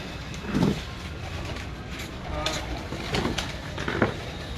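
Champion breeder pigeons coo in low, soft bursts at a pigeon fancier's loft, several calls spaced across a few seconds over steady background noise, with a faint hint of voices.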